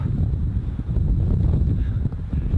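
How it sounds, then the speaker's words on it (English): Wind rising across a misty bog at a wild camp, a rough low gusting roar buffeting close to the microphone and holding steady for a couple of seconds. "The wind's starting to pick up."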